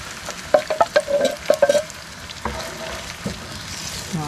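Tomato pulp tipped into sizzling soffritto in a pan in a camper van, a burst of wet sputtering and splashes at first that settles into a steady, quieter fry.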